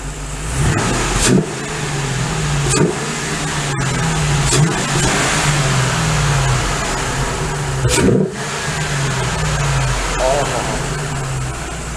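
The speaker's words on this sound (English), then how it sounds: "But now I'll have Nick give it some revs." A Ford Mustang GT V8 engine with a Roush cold air intake revs up several times in quick bursts, a loud throaty roar rising and falling over a steady idle.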